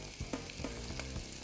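Chopped onions and green chillies fry in a little oil in a pan, giving a steady crackling sizzle with a few sharper pops and spits, close and fairly quiet, and no voices over it.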